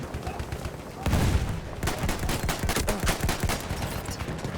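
C96 Carbine gunfire in Battlefield 1, a rapid run of close, loud shots that intensifies after the first second and keeps crackling to the end.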